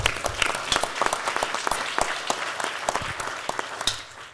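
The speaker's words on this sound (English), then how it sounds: "Just want a round of applause." Audience applause at an inaugural summit on recovery living, a moderate burst of clapping with sharp individual claps standing out, steady through the clip.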